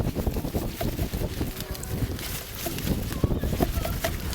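Outdoor wind buffeting the microphone in a garden with moving grasses, a constant rumbling gusty roar heard up close beneath a person talking.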